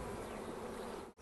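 Honeybees buzz in a dense, continuous drone at a beehive, close and steady with no voices, cutting off briefly at the very end.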